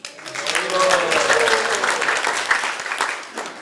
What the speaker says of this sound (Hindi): कुछ लोग ताली बजाने लगे तो बजाओ, कोई बात नहीं।